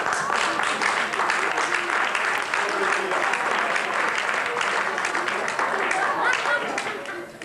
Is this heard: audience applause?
yes